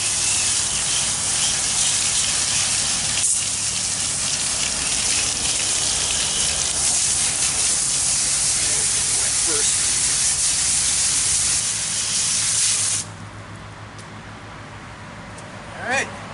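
Steady, loud hissing spray of water washes out a leaking car AC unit for about 13 seconds, then cuts off, leaving quieter background with a brief bump near the end.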